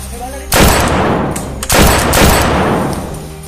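Heavy gunfire: two loud bursts of rapid shots in quick succession, the noise sustained and rumbling between them.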